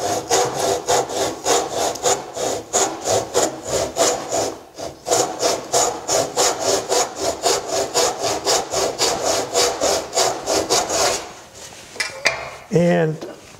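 A backsaw cuts wood along a gauge line in a steady rhythm of close, rasping push-pull strokes, about three per second, ending with a few scrapes and knocks.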